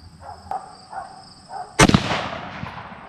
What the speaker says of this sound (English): All right, shoot when you're ready.